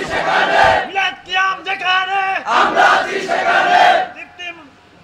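A crowd chanting a slogan together in loud, rhythmic bursts of unison voices, rising and falling several times, close and full.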